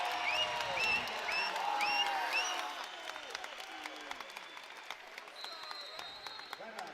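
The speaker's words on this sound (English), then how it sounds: "Now the crowd starts to come to life." Basketball crowd in an arena during a close Montana State game applauds and cheers, a broad roar with sneaker squeaks and whistle-like tones early, then thinning to scattered claps under an announcer's voice.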